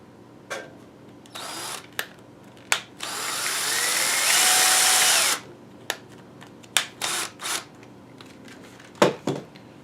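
A power drill drives screws into a spill-proof bait bucket to mount it, heard close up as a series of short whirring bursts and one longer steady run, with no talk.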